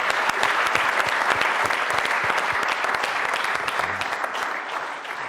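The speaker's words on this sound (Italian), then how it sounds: "Bene, allora un applauso al tennis." An audience breaks into loud, steady applause on a televised sports programme, a thick continuous patter of many hands clapping with no voices over it.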